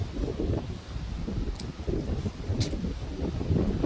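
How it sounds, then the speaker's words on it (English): Breezy wind blowing outdoors on a hillside near a cedar tree, heard as a steady, close rumbling buffet with gentle gusts swelling and easing, and no talk. "Pretty breezy."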